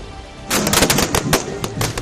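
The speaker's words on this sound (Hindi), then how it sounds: "पटाखे फोड़े जाने लगे" Firecrackers burst in a rapid crackling string at a village celebration in India, loud sharp pops after a quieter half-second of background noise, continuing irregularly without talking.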